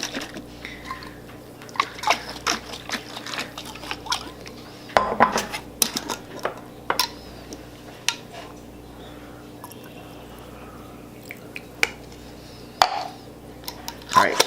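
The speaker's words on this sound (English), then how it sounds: "I'm going to go ahead and give this a big shake so that all the spices and other stuff can get mixed" A pot holding hoshaf with its spices is shaken by hand, producing clattering, knocking and sloshing in irregular bursts close by, with quiet gaps between them.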